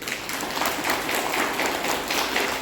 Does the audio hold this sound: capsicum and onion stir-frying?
no